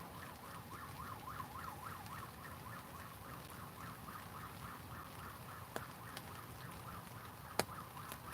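A faint wailing siren far off, rising and falling steadily in the background with a few soft clicks nearby.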